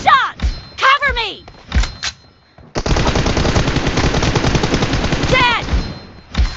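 Rapid automatic gunfire from the video game PUBG rattles out in a long sustained burst after a few shorter shots, loud and up front, with voices talking over parts of it.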